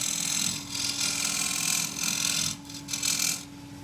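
A skew chisel cuts oak on a wood lathe, giving a continuous hissing, rasping shave in uneven surges. A steady motor hum sits underneath, with no talking.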